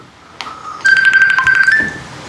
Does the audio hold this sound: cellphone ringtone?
yes